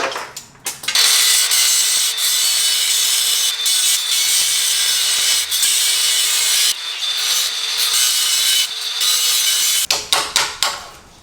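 A power tool grinds and cuts steadily into the steel bearing race on a Dana 60 axle from an F250 during an Eaton E-locker install. The harsh, loud, close cutting runs almost continuously, with a few brief gaps and knocks near the end.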